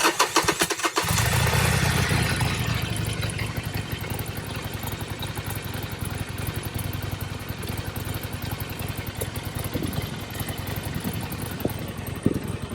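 A Harley-Davidson Sportster Iron 1200 motorcycle engine cranks and catches, roaring up briefly before settling into a steady, rumbling idle close by, with occasional small revs.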